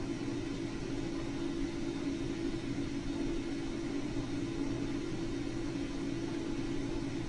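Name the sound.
self-driving vehicle Alvin driving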